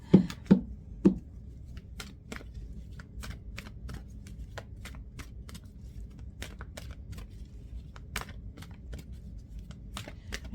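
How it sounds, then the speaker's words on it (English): Tarot cards being shuffled by hand, a few sharper riffling bursts at first, then a long run of light, irregular card slaps and flicks, quiet and close with no talking. "as I'm shuffling, oh my gosh, that's way too many cards"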